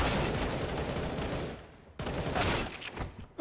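Gunfire in a Counter-Strike match on the Mirage map, with dense bursts of automatic and rifle shots filling the first half, a brief lull, then another flurry of shots and a sharp final crack.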